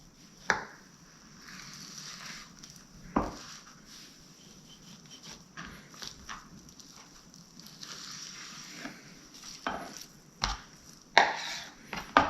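A knife cuts beef chuck into steaks on a board, with several sharp chopping knocks at irregular intervals over low background noise and a few quiet handling sounds.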